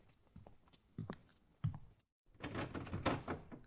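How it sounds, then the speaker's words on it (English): An indoor door handle rattled and pushed several times at a recording studio entrance, giving a string of knocks and thunks, then a short silence followed by louder clattering against the locked door. "Hey, who locked this door?"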